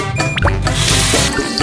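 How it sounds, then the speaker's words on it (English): Water splashes and runs close by as body scrub is rinsed off skin, with a few brief drips at first and then a steady wash of running water, with no voices. "Now to just wash it off."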